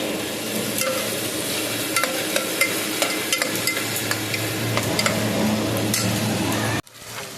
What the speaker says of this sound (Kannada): ಟೊಮೆಟೊ ಟೊಮೆಟೊ ಚೆನ್ನಾಗಿ ಫ್ರೈ ಆಗಲಿ